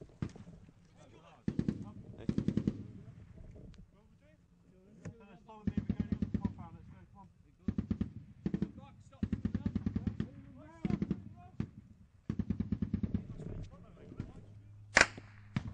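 Repeated bursts of rapid machine gun fire ring out during a Scots Guards engagement in Operation Moshtarak, sharp rattling volleys separated by brief pauses and heard at moderate distance, with a single louder crack near the end.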